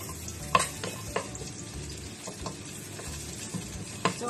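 Ginger, mandarin peel and star anise sauté in hot oil, giving a steady close sizzle with a few sharp spatters and the occasional scrape of stirring, and no voices.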